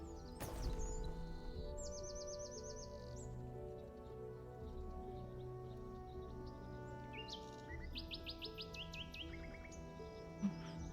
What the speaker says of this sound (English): Do like the bird sounds in the game too.